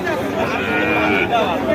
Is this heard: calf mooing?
yes